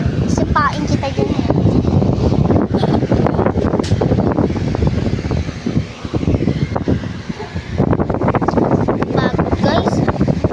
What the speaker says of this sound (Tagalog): Ayan o, hangin ng hangin.